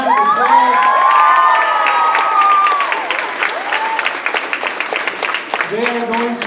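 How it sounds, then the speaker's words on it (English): Elementary school audience applauding and cheering for a visiting crew, with children shouting and whooping over dense clapping that swells loud at first, then thins into scattered claps and voices. "Let's give them a round of applause."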